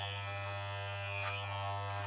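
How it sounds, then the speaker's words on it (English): Electric hair clippers buzz steadily and close up while cutting hair at the scalp during a home haircut, a constant motor drone with a brief brighter swell midway through. "Get the clippers right in there so your scalp can feel it."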